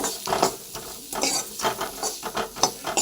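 Big onions sautéing in a pan for a potato gravy, a close sizzle broken by frequent scraping stirs of a spoon against the metal, fairly loud with no talking.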